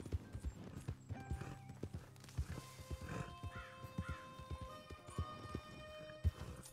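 Horse hooves clip-clopping at a steady gait in the open-world western video game Red Dead Redemption 2, rhythmic thuds over soft ambient background with distant crow caws.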